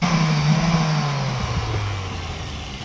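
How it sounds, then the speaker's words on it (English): Power sander droning against a car's front lip, a steady motor whine that slowly drops in pitch and fades slightly over a few seconds, close and continuous. "I'm gonna pull out the sander, like the real sander"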